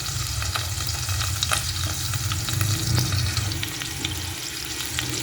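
Onion, garlic and ginger sauté in a pan for a chicken tinola, giving a loud continuous sizzle with stirring and scraping close by and no talking.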